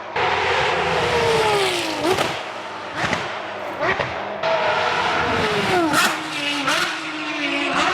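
A Ferrari race car at Spa comes in fast with a loud, high engine wail that falls as it brakes and downshifts with sharp cracks. It revs again, and a second sweeping pass follows.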